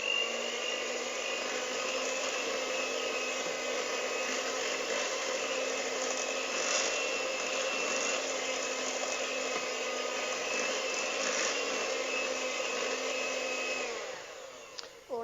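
Electric hand mixer whirring steadily through Hungarian coffee cake batter, a loud continuous motor hum that holds for about fourteen seconds before cutting off.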